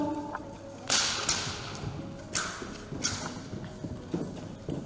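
An Icelandic horse at a canter or gallop during a breeding show evaluation, hooves striking in a steady rhythmic beat with sharp louder accents, heard clearly and fairly close, with no talking.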